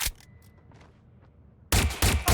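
A quiet stretch of faint game ambience gives way to a sudden loud burst of rapid gunfire in Watch Dogs Legion, close and sharp, several shots in quick succession.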